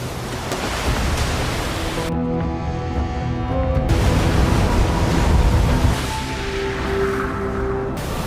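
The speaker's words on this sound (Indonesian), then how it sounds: "Sando kemudian membawa Pikelet pergi ke pantai untuk mendapat latihan berselancar dengan ombak-ombak terbaik." Ocean surf breaks at a surfing beach, a broad, continuous rushing wash that swells and fades, with faint sustained tones sounding over it through the middle.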